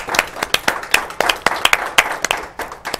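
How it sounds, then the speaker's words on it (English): Scattered, uneven hand claps from a small group applauding city council members, a dozen or so sharp claps in quick succession, close and fairly loud, with no one talking over them. "Let's give a round of applause for those people"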